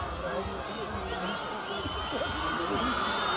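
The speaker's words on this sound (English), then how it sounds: "You can hear the crowd loving every single moment." A crowd at an India versus Nepal exhibition football match cheers, whoops and shouts continuously, loud and dense throughout, with a commentator's voice running over it.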